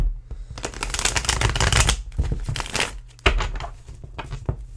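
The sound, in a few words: tarot cards being shuffled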